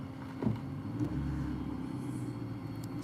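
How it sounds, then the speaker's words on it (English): A Dodge Charger police car's V8 engine rumbles low and steady nearby during a traffic stop, with a couple of brief louder surges early on over a continuous idle. "You can hear the V8, the vroom, vroom, vroom, vroom, vroom, vroom, vroom."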